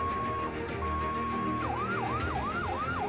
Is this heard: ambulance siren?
yes